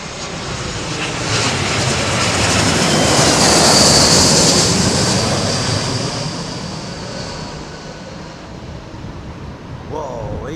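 An airliner on final approach to London Heathrow Airport, its jet engines rising in a loud, broad roar that swells and peaks mid-pass, then fades slowly while remaining audible, with voices speaking over it.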